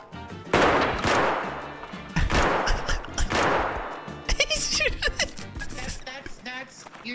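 Gunfire in the video game Escape from Tarkov comes in several loud, rapid bursts close by, separated by short pauses, with players talking between the volleys.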